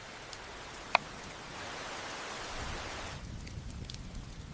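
Heavy monsoon rain falls outside a village home, a steady broadband hiss with a single sharp tap near the start, continuous and moderately loud with no voices.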